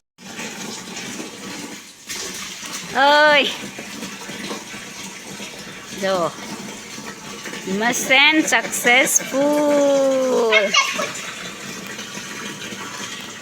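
Water gushes and splashes into a newly plumbed tank in a steady rushing flow, while people nearby talk and call out excitedly over it.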